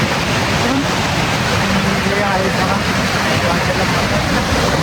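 Loud, steady rush of falling water at Kalu Waterfall near Malshej Ghat during monsoon fills the whole stretch, with a voice speaking briefly over the roar.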